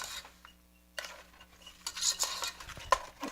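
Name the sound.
spoon stirring strawberry sauce in a pot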